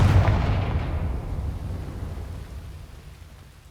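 A Confringo fire spell from Hogwarts Legacy goes off as one loud, booming blast whose rumble slowly fades over a few seconds, with no voices.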